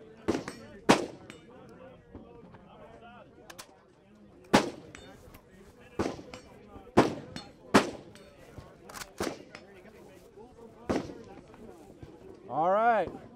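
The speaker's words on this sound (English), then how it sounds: "let's go ahead and rip some rounds through" An FN M249S Para fires at an outdoor range as a sequence of sharp, loud reports spaced irregularly over several seconds, ringing out with echoes, and people talk between the shots.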